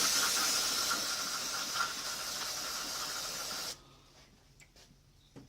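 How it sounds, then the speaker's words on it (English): Brake parts cleaner sprays from an aerosol can in a strong, close, steady hiss for about four seconds, then cuts off, leaving faint ticks and handling noises. "get me a little bit of brake parts cleaner here"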